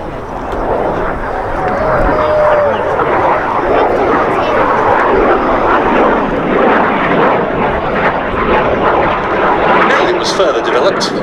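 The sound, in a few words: Jet Provost jet aircraft flying at air festival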